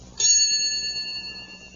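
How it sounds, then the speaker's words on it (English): Read-along turn-the-page bell for a Muppets camping story: a single bright ding that strikes sharply, then rings on with a clear, slowly fading tone, heard alone. "The turn the page bell?"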